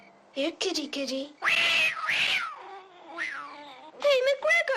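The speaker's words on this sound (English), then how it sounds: "Why is it that cat only shows up when there's food around?" A pet cat meows repeatedly at home, a string of short and drawn-out cries with rising and falling pitch, mixed with people talking nearby.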